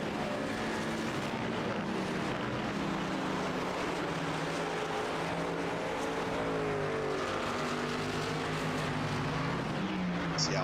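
Ford race truck engine at Sonoma in a racing video game, a continuous buzzing engine drone with shifting pitch as trucks run together, steady and fairly loud with no talk over it.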